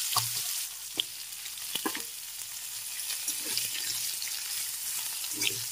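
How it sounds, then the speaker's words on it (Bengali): Tempering spices and vegetable stalks sizzle in hot oil, a bright continuous hiss with occasional spatters and soft stirring knocks of a utensil in the pan. "ফোড়নটা একটু ভেজে নিচ্ছি, আর এর সাথে দিয়ে দিচ্ছি ডাঁটাগুলো"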